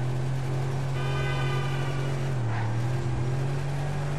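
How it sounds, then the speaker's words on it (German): Damaged car engine in GTA V while driving, a steady low drone that dips briefly in pitch partway through, continuous and fairly loud with no speech. "Naja, der Motor hat's erwischt."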